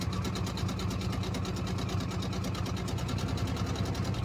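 Juki DX-2000 QVP sewing machine stitching faux leather at a moderate, steady pace, a rapid even mechanical chatter with a rhythmic low thump, close and continuous throughout.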